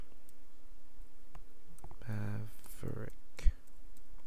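Computer keyboard typing while entering a Kodi Krypton 17.1 add-on source address, heard as a short cluster of quick clicks near a voice, close and moderately loud.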